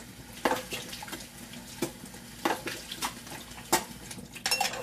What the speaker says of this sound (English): let me rinse my hands off, rinse my gloves off